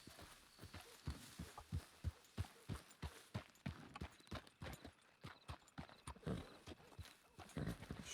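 Horse hooves clip-clop in a steady walking rhythm in Red Dead Redemption 2, the footfalls fairly close and evenly spaced, with faint background ambience and no talking.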